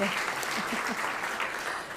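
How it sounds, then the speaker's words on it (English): Audience applause at a journalism award gala, a dense continuous clapping that is fairly faint and distant and holds steady throughout. "Double applause"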